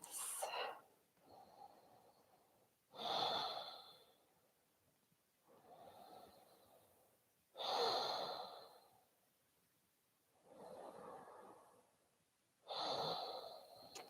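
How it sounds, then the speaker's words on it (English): Three slow, deep breaths taken in a yoga class, each a long inhale and exhale rising and falling in alternating bursts, close and fairly soft, with quiet pauses between and no talking. "Taking 3 deep, life-affirming breaths."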